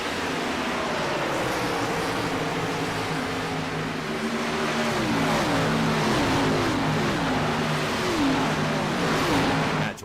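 Stock cars race around Old Atlanta in a racing video game, among them the 24 Pepsi DuPont car, their engines droning loud and close with repeated rising and falling pitch sweeps as they run in a pack.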